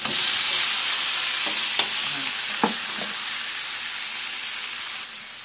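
Squid hitting a hot pan with garlic and ginger, giving a loud, even hiss of stir-frying that carries on throughout, with a couple of small clicks of a utensil, then easing off slightly at the end; no voices.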